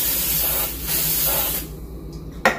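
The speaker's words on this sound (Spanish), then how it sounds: "When it is ready, we will get an oven pan and add butter spray so the cake won't stick." Butter-flavored cooking spray hisses from a can into a cake pan for a chocolate cake, a close, steady spray lasting about a second and a half, then a sharp short burst near the end.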